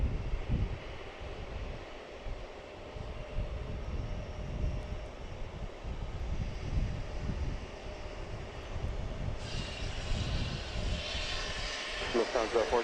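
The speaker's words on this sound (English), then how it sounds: "Emirates A380 just passed over by them?" A jet airliner passes over Logan Airport with a broad, rumbling engine roar and some wind noise, while people talk over it throughout.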